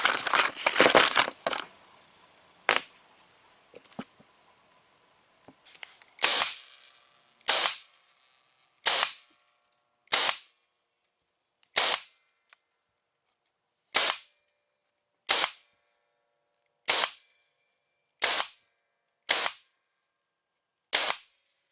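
A staple gun drives 1/4-inch staples into a cracked Chevy Caprice dash pad. After a burst of rustling and clicks come about a dozen sharp, loud snaps at a steady, evenly spaced pace with silence between.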